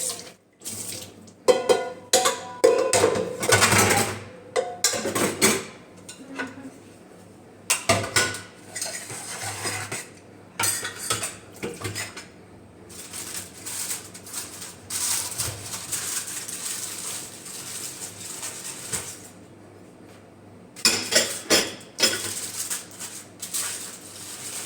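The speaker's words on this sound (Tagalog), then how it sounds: "magugas muna ako ng mga plato" Dishes and plates being washed at a sink with running tap water, with repeated clinks and clatters of crockery and cutlery in irregular bursts, close and fairly loud.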